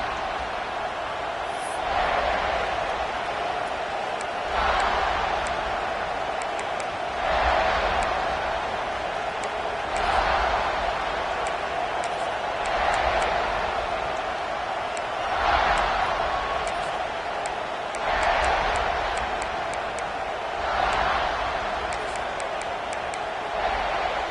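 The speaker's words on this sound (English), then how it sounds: "This crowd, full throat, splitting the eardrums and letting them know it's going to be a long day." Stadium crowd in College Football 26 at a South Carolina vs Texas A&M game, roaring in a steady loud wash that swells in rhythmic surges every few seconds throughout.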